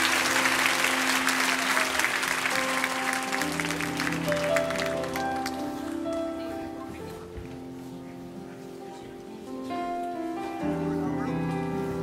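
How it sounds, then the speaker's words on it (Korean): A church congregation applauds a youth group in sustained, dense clapping that gradually thins, with a voice speaking over the later part. "한번 박수로 이들을 맞이해 주시면 감사하겠습니다."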